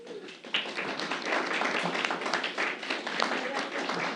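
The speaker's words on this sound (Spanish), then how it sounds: "Así que le damos un aplauso" An audience at a university language symposium applauds, a dense and steady burst of clapping that starts abruptly and carries on evenly throughout.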